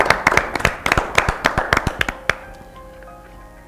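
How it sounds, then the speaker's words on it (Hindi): A small studio audience on a Hindi sports quiz show claps in loose, distinct smacks that thin out and stop after about two seconds, leaving a quiet room. "तालियों में कोई कंजूसी नहीं।"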